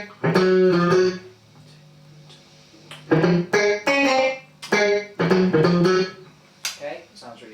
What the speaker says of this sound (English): And then the tri-chorus mode.